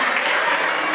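Dense, steady applause from an audience at a certificate ceremony for a parenting school, a short continuous burst of many hands clapping.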